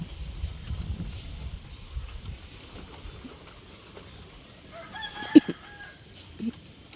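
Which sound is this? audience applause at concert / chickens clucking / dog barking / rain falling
chickens clucking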